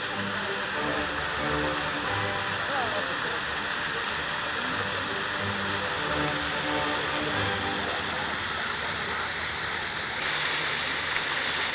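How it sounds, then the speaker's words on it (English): Water-park lazy river where large buckets fill and dump water: a constant loud rushing, splashing roar of falling water fills the whole stretch, with a steady mechanical hum beneath and no clear talk. "They have these buckets, so when the bucket fills up, they just pour their water."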